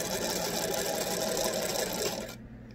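A sewing machine stitches a towel up close with a steady, fast mechanical whir that runs unbroken for over two seconds, then winds down and stops near the end.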